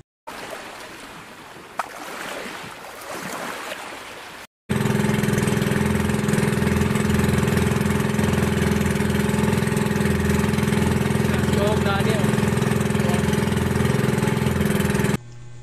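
A small fishing boat's engine drones steadily at close range on the way home through fairly large waves, a loud unbroken mid-pitched hum that starts after a short quieter stretch.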